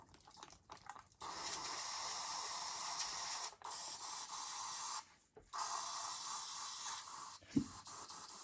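A paint spray gun blasts moss green paint out to clean itself, a steady loud hiss in three long bursts with short gaps and a soft knock near the end.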